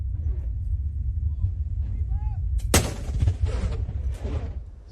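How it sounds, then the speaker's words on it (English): One heavy boom from a ceremonial 19-gun artillery salute honouring the Thai Prime Minister at Galle Face Green, Sri Lanka, bursts sharply over a steady low rumble, followed by a fading crackle. "the Thai Premier was honoured by a 19-gun salute at the Golface Green."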